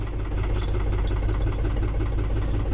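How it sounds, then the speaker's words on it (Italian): A tractor engine idles steadily after sitting unused for three months, a continuous low rumble with a faint knocking texture, loud and close, with no voices. "sono salito sul trattore. Che ora lo accendiamo e facciamo un giretto"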